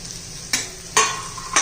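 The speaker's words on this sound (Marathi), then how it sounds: "त्यात भेंडी घालून घ्यायची आहे." Okra (bhindi) sizzling in a hot pan, with a few sharp scrapes of a spoon stirring it against a steady frying hiss, close and clear.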